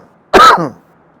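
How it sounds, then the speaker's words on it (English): A single short, harsh throat clearing with a cough-like burst, close and loud against a quiet background. "excuse the coughs"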